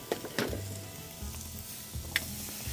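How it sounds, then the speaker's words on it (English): Inch-thick rib steaks sizzle on a charcoal grill, a bright continuous frying hiss close by with a few sharp pops and crackles, no talking over it. "Okay, it's sizzling."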